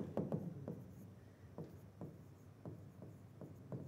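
Chalk or marker writing on a board during a Grade 9 trigonometry lesson, a series of short scratchy strokes and taps spaced irregularly, close and clear against a quiet room with no talking.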